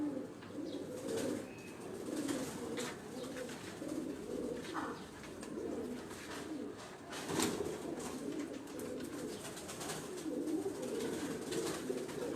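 Pigeons coo steadily in a breeder loft of Sialkoti birds, a continuous layered murmur of overlapping low calls at moderate distance, with occasional faint chirps and wing flutters.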